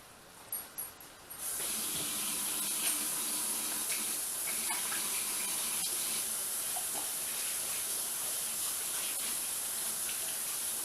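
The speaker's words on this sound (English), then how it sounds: "wash my hands" Water pours steadily from a kitchen tap as hands are washed, a continuous close hiss and splash that starts after a few faint knocks and carries on unbroken to the end.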